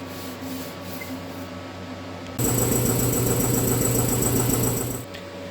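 An angle grinder smoothing a butt weld on metal starts abruptly partway through, a loud steady whine with rough rubbing texture that runs for several seconds before cutting off, following a quieter mechanical hum.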